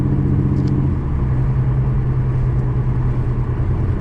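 A car exhaust running with an idle chop mod, a steady loud low rumble that holds evenly throughout with no clear revving.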